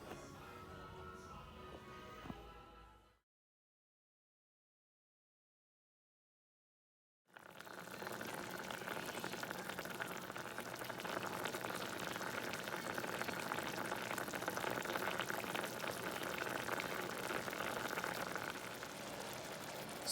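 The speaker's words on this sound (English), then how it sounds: "So just let it boil." Squid rice simmering with beer in a pot gives a steady, dense bubbling and hissing boil, close and continuous after a brief silent gap.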